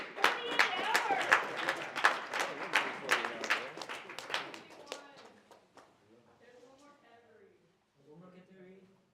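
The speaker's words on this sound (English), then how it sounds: "now we need to clap for everybody that, good job for building in 48 hours." A crowd applauds hackathon teams after a 48-hour build, with dense clapping for about five seconds that thins into scattered claps, then fades as voices talk.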